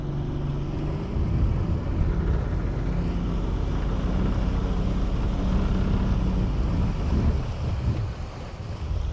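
A Wellcraft boat engine stuck at idle out on open water, a steady low rumble under heavy wind buffeting and splashing waves, continuous and close, with no talking.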